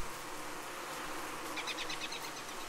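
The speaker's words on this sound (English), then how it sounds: "there's about a million of bees down here" Dense swarm of bees buzzing in the video game Don't Starve Together, a steady continuous drone with a brighter, closer buzz joining partway through, no talking.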